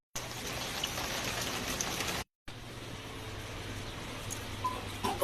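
Rain falling outside, a steady broadband hiss of drops that continues for the whole stretch apart from a brief gap in the middle, with no voices present.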